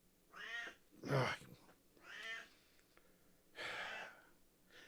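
A cat meows repeatedly in four drawn-out, whining cries, the second loudest and rising, as it begs to be let out; close and clear with no talk.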